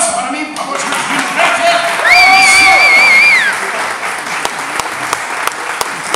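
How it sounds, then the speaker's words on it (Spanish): Comedy show crowd applauding a Mexican stand-up comedian, dense clapping throughout with a loud whistle-like cheer and shouts rising in the middle, loud and close. "¡Aplauso para mí, por favor!"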